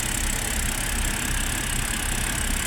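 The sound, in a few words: BMW F10 523i car engine idling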